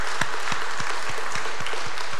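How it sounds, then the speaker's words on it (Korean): Church congregation applauding an elderly elder's doctoral degree, a dense steady wash of clapping with periodic low thumps, no talk. "우리 힘차게 박수하겠습니다"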